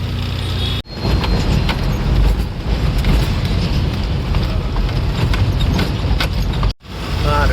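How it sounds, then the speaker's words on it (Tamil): Busy road noise, a dense rumbling wash of engines and passing vehicles, loud and continuous with two brief cuts. "இது பயங்கர டிராஃபிக்"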